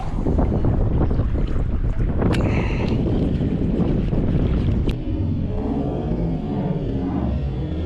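Strong wind buffeting a fishing boat on a rough day at Port Mansfield, Texas, a loud steady roar of gusts across the microphone with water wash, easing slightly near the end; no talk.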